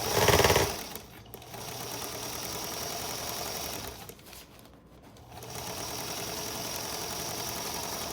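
Close, steady whirring of a sewing machine stitching a raglan sleeve onto the body of a hospital gown, with a louder clatter at the start and two short pauses before the motor resumes.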